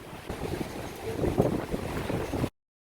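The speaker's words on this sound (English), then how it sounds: "The wind is so crazy." Strong wind buffets a microphone outdoors on an off-road overland trip in Georgia, a steady loud roar with gusts swelling midway, filling the whole clip with no talk before it cuts off abruptly.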